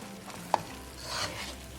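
A spoon scrapes and stirs through a pan of panjiri frying in desi ghee, with a soft steady sizzle and a single sharp clink.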